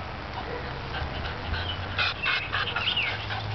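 A puppy in a vegetable garden gives a few short whimpering yelps and whines, fairly close, over steady outdoor background noise.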